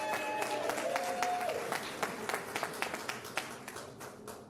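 Applause for the governor of California at a state bill-signing event, a crowd clapping steadily with sharp individual claps standing out and a faint tone underneath, thinning toward the end.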